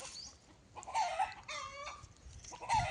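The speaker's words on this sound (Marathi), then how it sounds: "कोंबड्या वरडायला लागले ते." Chickens cluck and a rooster crows in a riverside village after heavy rain, with short clucks scattered throughout and one longer crow in the middle, moderately close and with no talking.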